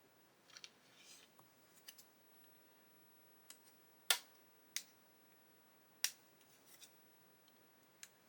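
God Hands nippers snip sprue gates off a Rye Field Model 1/35 M109A7 plastic kit. About half a dozen sharp, isolated clicks sound up close in a quiet room, with the louder snaps spaced roughly a second apart.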